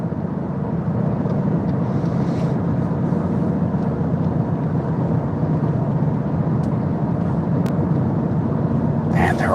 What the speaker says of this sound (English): Man, there are just a lot of cars on this road tonight.